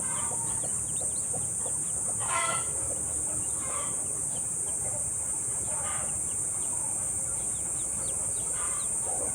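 A free-range hen clucks in short, scattered bursts while eggs hatch, against a constant high insect-like hiss, the calls fairly close and not very loud.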